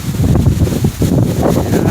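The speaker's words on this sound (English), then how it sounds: "and all what you're hearing is wind." Strong Hurricane Ian wind roars outdoors in Florida beside a swollen backyard pool, a steady loud buffeting rush with gusty swells that batters the microphone throughout.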